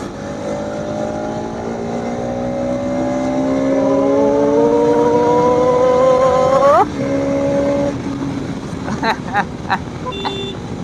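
An RS motorcycle engine on an open road rises steadily in pitch as the bike accelerates, drops abruptly at a gear shift, then settles into a steady drone with some wind rumble.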